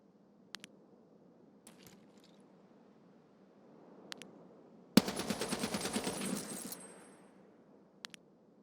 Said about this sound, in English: I mean, the gun itself works quite good, Warlord.